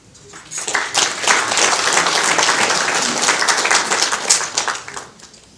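An indoor audience at a regular general meeting of a Seoul association claps warmly for its senior members, a dense burst of applause that swells quickly, holds steady for about four seconds, then fades out.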